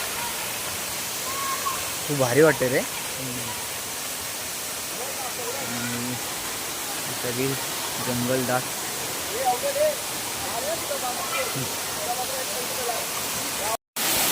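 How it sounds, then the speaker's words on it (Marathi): Constant broadband rushing of the Tulshi village waterfall fills the background while people talk over it intermittently, closer than the water. "आणि हा आहे तुळशीचा धबधबा"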